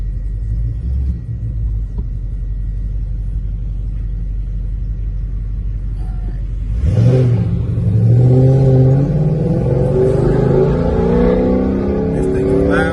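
A loud car engine rumbles at idle from close inside the cabin, then revs up hard as the car pulls away and keeps roaring while driving; voices are faintly present beneath the engine.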